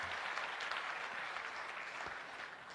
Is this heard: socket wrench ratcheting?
no